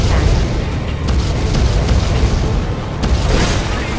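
An ore miner exploding under attack in Red Alert 2, a loud continuous din of booming blasts and rumble with brief sharper bursts around the one- and three-second marks.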